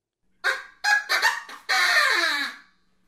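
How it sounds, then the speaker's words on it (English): A Duplex rooster call, an early-1900s trap-drummer sound effect instrument, gives a few short, loud squawking bursts and then a longer crowing call that slides downward, heard alone with no talking. "They made a rooster call."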